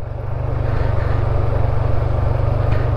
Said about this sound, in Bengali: সম্পূর্ণ ইঞ্জিন ব্রেকে নামতেছি, এটাই ইঞ্জিন ব্রেক।